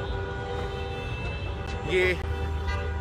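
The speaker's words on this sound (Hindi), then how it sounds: "लोग अपनी गाड़ियों के हॉर्न बजा रहे हैं।" Car horns honk in a street celebration of supporters after a US presidential election result, a steady tone sounding over crowd noise and talk, with a louder blast near the end.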